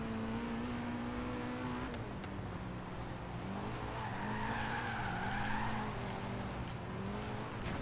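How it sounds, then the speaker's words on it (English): Tires squeal and skid continuously as a car drifts through a turn in the racing video game Forza Horizon 3, with a steady engine drone underneath and the skid pitch rising and wavering over several seconds. "This car is kind of fun to drift, but it is almost impossible to drive in a straight line."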